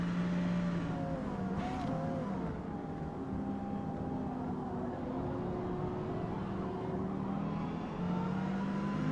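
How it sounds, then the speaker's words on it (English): An Aston Martin V12 race car in Gran Turismo 7 drones steadily at high revs, its engine tone rising and falling slightly through the run with no pauses or talk over it. "That V12 in that Aston sounds pretty good."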